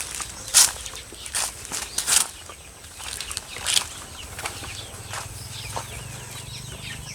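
Young chicks in a brooder pen, some sick, make scattered cheeps and clucks with bursts of scratching and wing flutter, close and uneven, over a low steady background hum.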